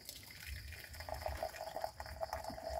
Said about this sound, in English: Let's add hot water here.